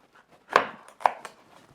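A knife chops down through the middle of a butternut squash in two firm thuds about half a second apart, close and clear in a quiet kitchen.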